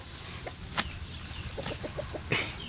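A live duck being handled gives short scattered squawks and a few clucking quacks, with rustling and sharp scuffs close by.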